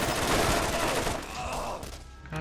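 Rapid gunfire from the video game Borderlands rattles continuously as a dense, loud barrage, thinning out toward the end.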